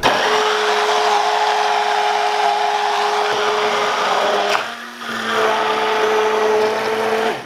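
A Litchi 4 in 1 hand mixer blending diced tomatoes, a loud steady motor whine that dips briefly midway before resuming at full speed, no talk.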